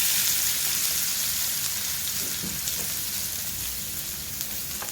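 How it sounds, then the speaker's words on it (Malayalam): Grated coconut frying in coconut oil, a soft, even hiss of sizzling with faint stirring, steady and close, no talking. "ഈ നാളികേര വെളിച്ചെണ്ണക്കിടന്നൊന്ന് ഇടുന്നൊന്ന് മൂക്കട്ടെ കേട്ടോ"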